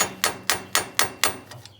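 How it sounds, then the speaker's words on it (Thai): A hammer strikes a stuck clutch pin on a Series 5D tractor, five evenly spaced sharp metallic blows followed by a couple of lighter taps, close and loud. "จำเป็นต้องตอกออกครับ"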